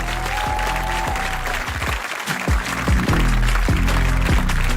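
Applause fills the whole stretch, a dense steady patter of clapping hands from a group, loud and continuous with only a brief dip in the middle.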